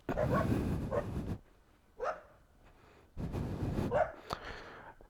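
A dog barks nearby in short, rough bursts separated by brief pauses, loud and close.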